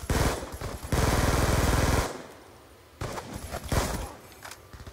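A Scorpion submachine gun fires in Black Ops 2 in two loud rapid bursts of tightly packed shots, split by a short quieter gap with faint movement noise.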